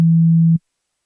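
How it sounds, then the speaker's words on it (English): A pure sub-bass sine test tone holds steady at a single low pitch, loud and unbroken for about half a second, then cuts off into silence. "this is just a sine wave"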